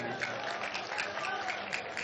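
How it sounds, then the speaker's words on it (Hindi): Faint, thin applause from the audience at an all-India mushaira in Jaunpur: light scattered clapping from a distant crowd that holds at a low, even level. "इतनी कमजोर ताली ना बजाओ यार"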